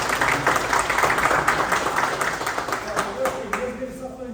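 An audience at a corporate talk gives a steady round of applause, even clapping that holds and then tapers off, with a voice speaking over it toward the end.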